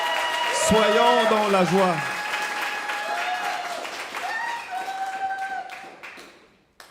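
A church congregation claps steadily while a voice sings and speaks over it, the applause continuing under the singing before tapering off into quiet.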